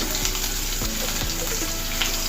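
Carrot and ginger pieces for semiya upma sizzle in a hot pan, a steady close frying crackle with a few faint stirring scrapes.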